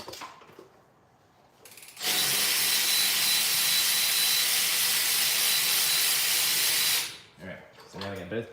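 A power tool removes the front brake bolts on a 2002 Ford E350 with a loud, steady hissing run lasting about five seconds, preceded by quiet shop sound. A voice follows briefly after it.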